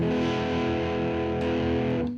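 An electric guitar plays through an amp's drive channel on the bridge pickup, with the drive past noon, volume near 2 and treble rolled down; a thick, sustained distorted chord rings loud and steady.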